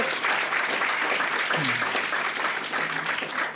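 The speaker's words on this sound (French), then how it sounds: "je crois que c'est surtout lui qu'il faut applaudir" Audience applause at a pharmaceutical industry conference hall in France, steady dense clapping filling the room throughout, with a brief voice murmur partway through.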